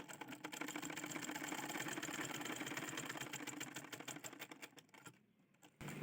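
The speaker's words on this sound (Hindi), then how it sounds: "यहाँ से यहाँ तक सिलाई लगाऊंगी" A sewing machine stitches a blouse seam in rapid, steady mechanical chatter for about five seconds, then stops, with a few brief clicks and a final knock near the end.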